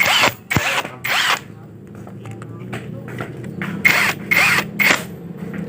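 A power tool whirs in several short, close bursts while tightening bolts on the right side of a Honda Vega R motorcycle engine, with brief pauses between each run.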